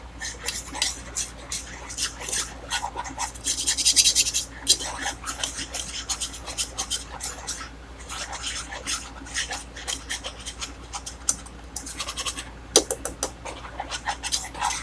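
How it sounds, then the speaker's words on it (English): A utensil scrapes and clinks against a pot while butter and flour are stirred together, irregular scratchy strokes close by with occasional sharper metal taps. "get all the butter and the flour mixed together"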